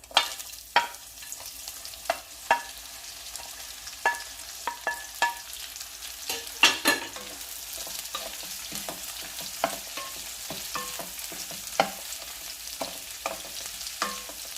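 Bitter gourd sizzles steadily in hot oil with popped mustard seeds, with scattered sharp clinks and scrapes of a spoon stirring the pan throughout.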